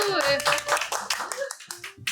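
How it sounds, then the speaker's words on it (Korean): A reading club gathering breaks into group clapping, a brief burst of hand claps that thins into scattered claps as people talk and laugh over it. "딱맞어 박수"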